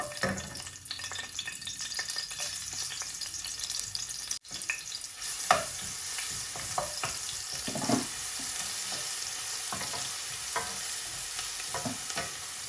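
Garlic and green chilies fry in hot oil for a rohu fish curry, giving a steady close sizzle broken by scraping stir strokes, with one brief dip partway through.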